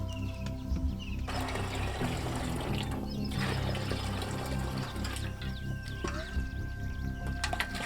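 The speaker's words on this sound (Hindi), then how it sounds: "शुरुआत में एक खाली कंटेनर में पानी और गुड़ डाला जाता है" Water and jaggery are poured into an empty container for home-brewed liquor. A continuous splashing pour and trickle runs throughout at a moderate level, with small clinks and handling noises.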